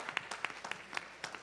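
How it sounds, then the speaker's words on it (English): A small audience claps briefly after Vedic chanting at a religious discourse, a short, faint patter of scattered, uneven hand claps. "Let's give a big round of applause."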